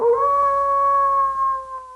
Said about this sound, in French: Le loup !